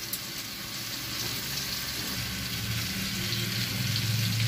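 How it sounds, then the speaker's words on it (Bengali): Chopped tomatoes hit a hot frying pan, setting off a steady, close, broadband sizzle that holds and swells slightly throughout, with no talking. "এবারে দিয়ে দেবো কুচনো টমেটো।"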